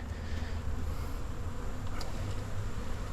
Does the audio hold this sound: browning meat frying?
no